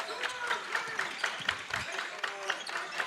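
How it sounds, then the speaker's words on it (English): Crowd at a North Dakota boys high school basketball game, Stanley Blue Jays against PLBC, clapping in a steady rhythm, about four claps per second, with loose crowd noise and voices underneath. "Stanley Blue Jays echoing the Ranchers clap"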